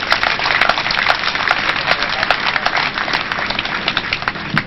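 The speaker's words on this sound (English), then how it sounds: "another round of applause" Dense applause from an audience at the commissioning ceremony of an ultra-modern asphalt plant, steady clapping that holds loud and continuous from start to finish.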